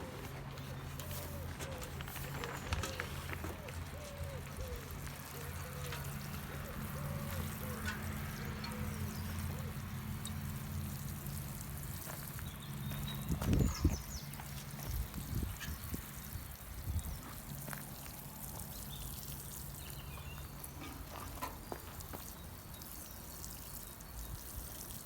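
Water pours steadily onto newly planted wild garlic and Welsh onions in an allotment garden, a soft continuous trickle and splash running close by for the whole stretch.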